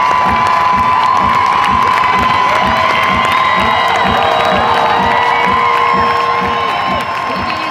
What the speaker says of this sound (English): the crowd were going wild afterwards